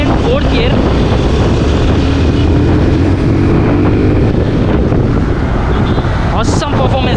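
A Suzuki Gixxer 250 BS6 motorcycle with a 250cc engine rides in fourth gear, its engine drone partly buried under heavy, constant wind rush over the microphone.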